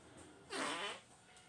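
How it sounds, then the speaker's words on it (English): One short, breathy fart, fairly loud and close, rising out of a quiet room background and fading within about half a second. "Farted again."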